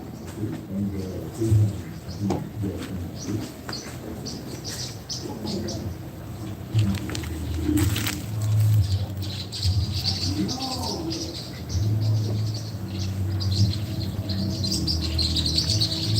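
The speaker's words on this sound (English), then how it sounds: "you hear the birds?" Small birds chirping and tweeting in scattered bursts at a distance, mixed with occasional coos, while a person talks nearby at times.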